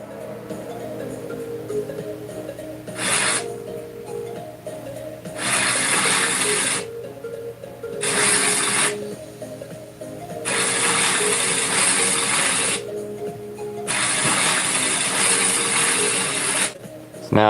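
A charge-up effect for Godzilla's atomic breath in Godzilla Minus One comes in five loud bursts of crackling, ratcheting mechanical noise, separated by short quieter gaps over a low steady hum.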